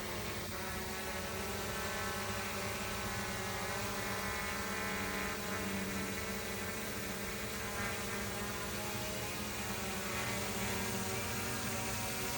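A DJI Mini 3 Pro drone flying and coming in to land gives off a steady, high propeller whine and buzz that holds evenly throughout, with no talk over it.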